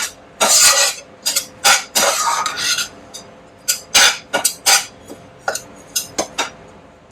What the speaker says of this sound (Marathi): हे डेसिकेटेड कोकोनट परतून घ्यायचंय थोडस त्याचबरोबर मिक्स करून घेऊया